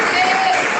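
A church congregation claps and murmurs together for about a second, a steady dense wash of hand claps close by with no pause.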